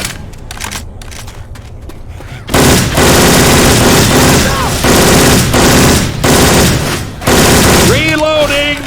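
Syphon Filter weapon sound effects replacing the guns in Left 4 Dead 2, loud continuous automatic fire with brief pauses, near and dominant, with a voice speaking over the end.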